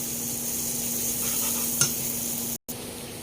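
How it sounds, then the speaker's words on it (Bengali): Onion and green chili frying with a little turmeric in a pan, giving a steady, close sizzle with a faint stirring scrape partway through and a brief cut near the end, with no voices. "হয়ে গিয়েছে আমার পেঁয়াজ মরিচ ভাজা"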